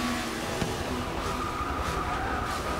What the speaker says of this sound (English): brake lockup is so real